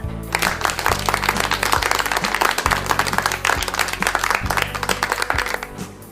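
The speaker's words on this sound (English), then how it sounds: "A round of applause to all of you." Applause of many hands in quick, dense claps, heard over a steady musical backing throughout and fading slightly near the end.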